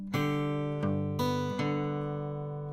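Acoustic blues guitar fingerpicking that pairs treble notes with bass notes: four strong plucked attacks in a short, even pattern ring out close and clear, with no talking.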